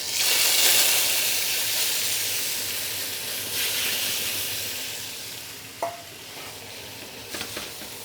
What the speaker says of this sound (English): We're just gonna let that sizzle a little bit and develop some flavors.